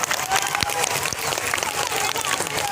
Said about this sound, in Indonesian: Berikan tepuk tangan untuk kawan-kawan yang telah totalitas dalam memberikan perjuangan